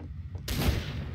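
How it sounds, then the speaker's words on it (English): Gunfire in a multiplayer shooter match set in a market near a fruit stand: a sudden loud blast that opens into a dense, sustained crackle of shots over a low ambient rumble. "Oh, I hear a gunshot."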